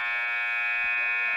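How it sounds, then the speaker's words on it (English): A basketball scoreboard buzzer in a school gym during a boys' game drones loud and steady, one sustained electric tone held from start to finish. "there's the buzzer to announce 15 seconds left"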